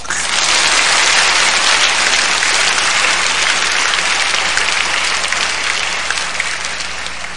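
A church congregation at a testimony gathering applauds, steady loud clapping from many hands that holds for several seconds and slowly tapers at the end, with no talk over it.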